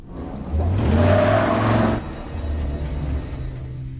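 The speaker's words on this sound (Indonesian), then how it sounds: "mobil van itu langsung kabur dari lokasi kejadian" A van speeds away from a crash site in a movie scene. Its engine surges loudly and close for about a second, then cuts to a lower, steadier rumble.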